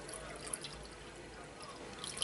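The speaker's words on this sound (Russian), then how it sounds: "Доливаю из бутылки" Water poured from a bottle into an aquarium makes a soft, continuous trickle and splash close by, growing slightly louder toward the end, with no talking over it.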